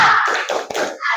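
A short burst of children's rhythmic classroom spirit clapping, a few close hand claps blending with a shouted group cheer.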